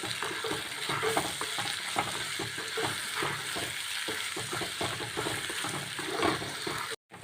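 Fish molee ingredients with curry leaves sautéing with salt in a pan, a continuous close sizzle broken by repeated scraping stirs, no voices, cutting off abruptly near the end.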